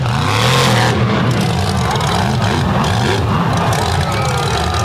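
Monster truck engine roaring loud and continuous during a walking wheelie before a packed crowd at Boyd Speedway, the revs rising and falling under a live announcer's commentary.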